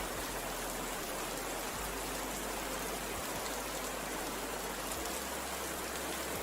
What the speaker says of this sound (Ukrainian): Це звук теплого весняного дощу.